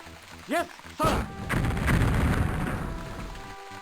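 Booming gunfire and shell blasts as a unit fires on enemy troops in the WWII strategy game Offensive, in an Allied Rhine-crossing battle at Essen: two sharp reports, then a sustained rumbling roar of explosions that slowly fades.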